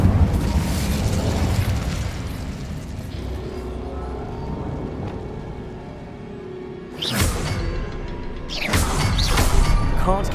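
Incendio fire spell cast in Hogwarts Legacy: a sustained roaring burst over a dense game soundscape, followed by two sharp, bright whooshing blasts near the end.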